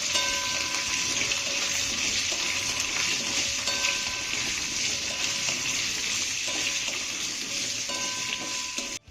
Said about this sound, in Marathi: आता ही घातलेली द्राक्ष आपल्याला फोडणीमध्ये चांगली मिक्स करून घ्यायची आहे